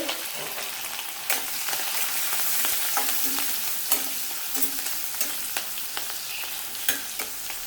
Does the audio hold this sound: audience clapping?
no